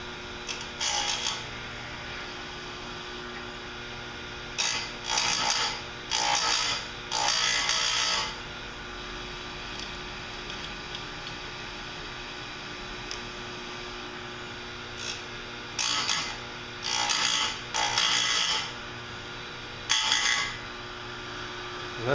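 A chain grinder sharpens a chainsaw chain, its motor humming steadily beneath repeated short bursts of grinding as the wheel meets each tooth, arriving in two clusters of close, evenly spaced passes.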